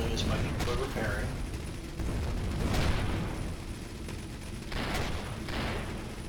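Ship weapons fire steadily during a space battle in the video game Avorion, heard as a busy, low-level wash of repeated blasts and mechanical clatter. A voice talks over it in places.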